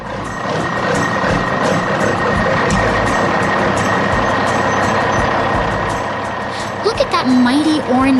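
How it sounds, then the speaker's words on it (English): An animated orange dump truck working in a city, its engine rumbling loudly under a steady series of reversing beeps before a voice starts speaking near the end. "Look at that mighty orange dump truck, working hard in the heart of the city."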